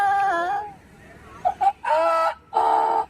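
A person imitates a rooster crowing with several loud, strained vocal bursts: one long call, two short yelps, then two more sustained crows.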